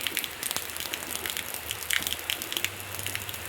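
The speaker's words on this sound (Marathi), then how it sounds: "हे बघा कसं मस्त पाऊस चालू आहे" Rain falls outside a home in a soft, steady patter, with scattered sharper drop ticks and a faint low hum underneath.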